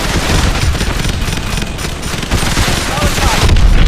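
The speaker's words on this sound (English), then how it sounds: "Plug onto those hard points and hit them with your missiles." Missiles strike the hard points of a hydroelectric dam during a Call of Duty: Advanced Warfare aerial mission, a dense, continuous barrage of explosions and gunfire-like bursts that stays loud throughout and swells toward the end.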